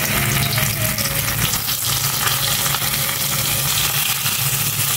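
Garlic frying in a pan of hot, smoking oil, a steady dense sizzle with crackle that holds at a constant loud level for the whole stretch, with no talking.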